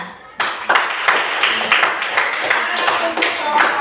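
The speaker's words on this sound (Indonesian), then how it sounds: "Berikan tepuk tangan." Classroom of students clapping for a group after a presentation, a sudden burst of dense, close applause that continues steadily with sharp individual claps.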